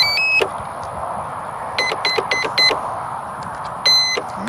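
Short electronic beeps from a drone ground station come in sharp bursts, some single and some in quick clusters of two to four, over a steady background hiss and low outdoor rumble.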